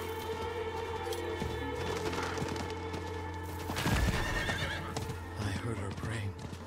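A horse whinnies and its hooves clop during riding in the video game Diablo IV, with the neigh rising over continuous game sounds and clip-clopping under it, at moderate, somewhat muffled level.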